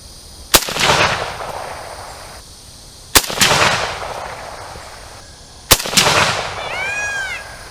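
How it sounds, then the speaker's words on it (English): Three sharp, loud 7.62x39 rifle shots crack a few seconds apart at night, each followed by a rolling outdoor echo as rounds hit a steel target downrange, with a faint ringing after the last shot. "I'm going to go ahead and make some more rounds on target"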